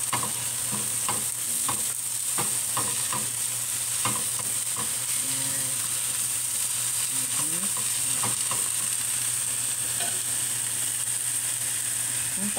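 Chinese pizza frying in a pan, with a steady loud sizzle and hiss and occasional scraping clicks of stirring, all close and continuous.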